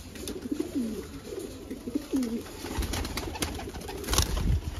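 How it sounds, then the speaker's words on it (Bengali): Caged pigeons at a bird sale, including a pair of Kapa Gaddan pigeons, coo in low repeated throaty rolls close by, with a brief wing flutter and rustle near the end. "বিশাল ছটপটে পায়রা, হাতে বেশিক্ষণ ধরে রাখা যায় না"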